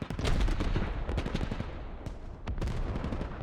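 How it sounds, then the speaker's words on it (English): Artillery shells land in a video game battle for Fallujah as Russian airborne troops come under fire, a dense barrage of overlapping booms and rapid crackling impacts with no gaps between them. "The artillery is just starting to land."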